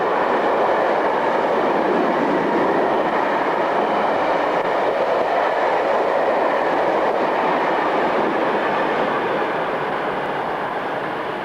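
A Swiss Class 620 Re6/6 electric locomotive on the Gotthard route rumbles past with a loud, continuous roar of wheels and rails, close and steady throughout, with no voices.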